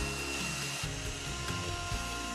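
A drill fitted with a paddle mixing Dr. Fixit Fastflex waterproofing compound at slow speed, producing a continuous loud whirring hum with a gritty churning texture and slight pulsing changes as the paddle turns.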